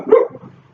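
A single sharp dog bark close by, followed by a brief softer trailing whine, then quiet.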